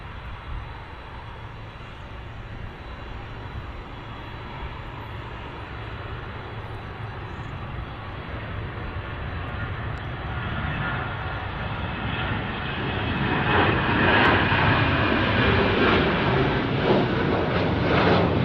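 A plane at Chicago O'Hare International Airport gives a steady, broad engine roar that swells gradually and grows louder toward the end, with no talking over it.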